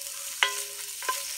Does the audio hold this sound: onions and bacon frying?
yes